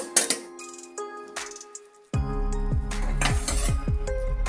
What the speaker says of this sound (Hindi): तो देखिए 1 मिनट बाद मैं ढक्कन हटा करके चेक कर लेती हूँ।